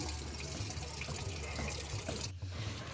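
Water runs steadily from a tap while a child is bathed at home, a close, continuous splashing stream with a brief dip near the end.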